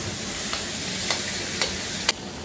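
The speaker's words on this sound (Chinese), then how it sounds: "先把肉下入锅内，" Meat for a home-style stir-fry with chives and enoki mushrooms hisses loudly in a hot wok, a constant sizzle close up, broken by four evenly spaced sharp scrapes of the spatula.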